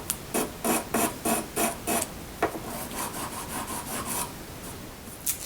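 The nut of a Harmony Model 1327 guitar is sanded to reshape its bevel, giving a series of short, rhythmic rasping strokes, about ten in quick succession, close and clear with no talk.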